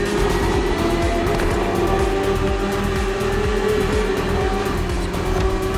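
BMW S1000RR superbike engine in the racing video game The Crew Motorfest, a steady, high, continuous engine drone held at near-constant revs throughout.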